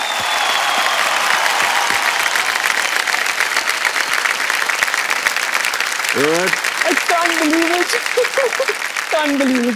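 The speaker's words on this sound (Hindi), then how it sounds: "तालियां बजती रहे इनके लिए।" A studio audience on the Kaun Banega Crorepati season 13 game show claps loudly and steadily, with a voice rising briefly over the applause near the end.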